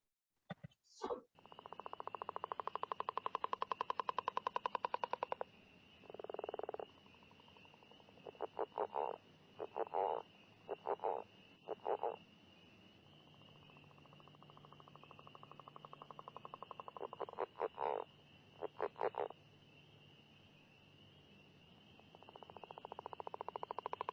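A frog's long, rubbery, creaking snore-like call, broken by bursts of rapid chuckling pulses, loud and close with no other voices.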